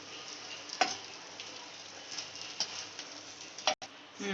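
Egg for a half-fried omelette frying in a hot pan on high heat, a steady close sizzle with a few brief pops and a short stir or scrape near the end.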